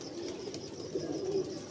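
Pigeon cooing close by, a low soft throaty coo rolling continuously and swelling slightly toward the end over faint background hiss.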